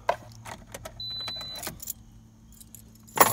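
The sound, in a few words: car keys jangling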